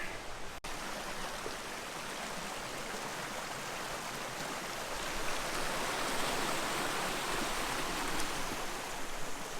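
Water of a creek flows continuously beside a hiker, a broad steady rushing wash with a brief click near the start, fairly close and unbroken, with no talking.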